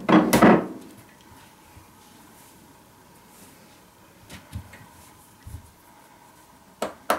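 Tok Sen massage with a wooden hammer and stick, one sharp close knock at the start followed by sparse, softer wooden taps scattered through a mostly quiet room.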